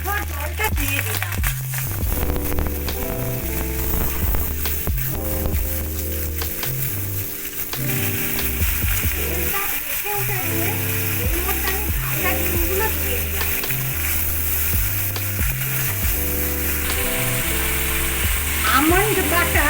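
Spices sizzle and fry in a pan after spice-rinsing water is added, a steady close hiss under a voice, with occasional scraping stirs.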